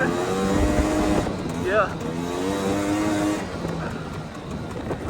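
A 1990 Honda Pilot off-road vehicle drifts through a turn, its engine revving and tires scrabbling in a continuous rush. A voice briefly speaks over the noise.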